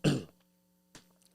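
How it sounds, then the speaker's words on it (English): A single sharp throat clearing close to the microphone, followed by a shorter, fainter second rasp a moment later. "got to clear my throat for this one."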